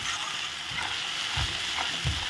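Cumin, coriander and ginger paste sautéing in a pan make a constant, dense sizzle, with a couple of low thumps from stirring.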